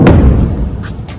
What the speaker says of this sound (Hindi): तो आप सुन सकते हैं आवाज। जोरदार जोरदार धमाका हुआ।